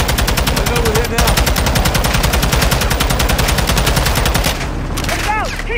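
A machine gun fires a long rapid, steady stream of loud close shots on a highway in the shooter Call of Duty: Modern Warfare 2, then stops, leaving voices and a lighter clatter.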